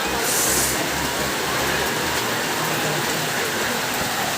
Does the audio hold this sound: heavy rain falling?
yes